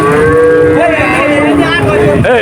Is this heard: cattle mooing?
yes